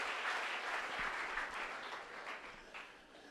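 A church congregation applauds together during a service, a dense wash of many hands clapping that stays loud and steady before gradually thinning out.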